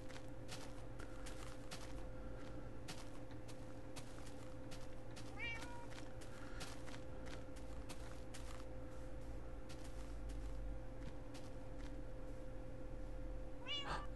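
A Minecraft cat meows twice, faint and short, once around the middle and once at the end, over a low, steady in-game hum and soft footstep clicks.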